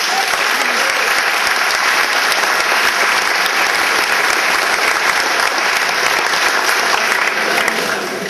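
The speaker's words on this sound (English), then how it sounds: "give yourselves a round of applause for that" Loud, sustained applause from a large audience, steady clapping that fades slightly at the very end.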